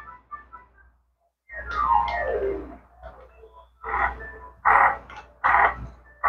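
Cartoonish toad croaks from the Crash video game played on a handheld console: a falling whistle-like sweep followed by several loud, bright croaking bursts in an uneven rhythm, close and clear.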